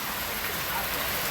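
Pouring rain in Hawaii, a dense, steady hiss of heavy rainfall close by, continuous with no pauses.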